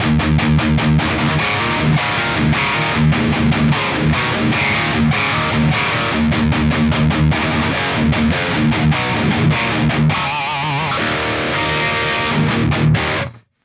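Distorted electric guitar through a Neural DSP Archetype Rabea amp plugin set to EL34 tubes, playing a loud, steady riff of tightly chugged chords and ringing notes that cuts off abruptly near the end.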